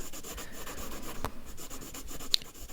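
Soft pencil scratching and rubbing on paper while colouring the gluteal muscles in an anatomy drawing, a quiet, close, continuous rasp with a few sharper strokes and no talking.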